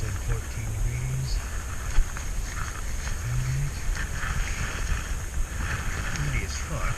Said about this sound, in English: Windy as fuck.